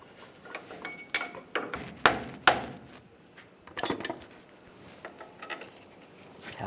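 Sharp metallic taps and clinks, spaced irregularly, with a few louder strikes, as a part is tapped into place on a 2007-2013 Chevrolet Silverado 1500 front axle during a seal replacement.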